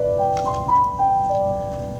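A piano plays a gentle, consonant melody, single clear notes stepping up and down over a soft sustained chord, moderately loud and alone for about two seconds.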